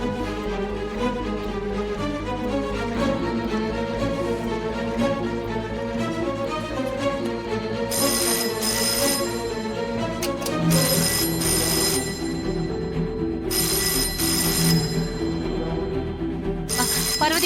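A telephone rings in a Tamil TV serial scene: repeated bright bell rings in spaced bursts over the second half, loud over ongoing background music.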